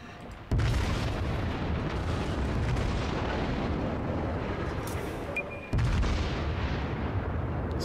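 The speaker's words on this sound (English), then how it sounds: "I gotta keep turning to get those other guns on him." Heavy naval guns on a warship in World of Warships fire two big booming salvos, one at the start and another near the end, each rolling into a long loud rumble that fills the gaps.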